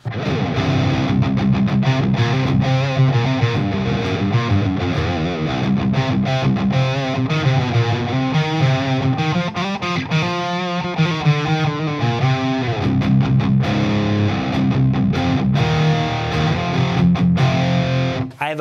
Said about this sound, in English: So my setup without the pedal sounds like this.